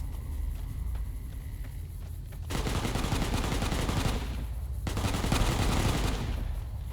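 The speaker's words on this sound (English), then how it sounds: "Looks like there's some hostile with guns close by." Sustained bursts of hostile gunfire in Fallout: New Vegas, set in a forest near Nipton, rattle on loudly and continuously through the whole stretch with no speech.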